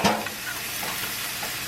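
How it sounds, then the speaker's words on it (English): Onions and peppers being stirred into a hot pan of cheesesteak meat on low heat, a steady hiss of sizzling with a sharp scrape at the start. "I'm gonna add these onions and peppers to it."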